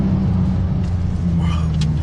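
A Porsche 911 Turbo S (992) drives hard around a tight, twisty test track, its engine a steady, loud, close rumble with a slight rise in pitch near the end.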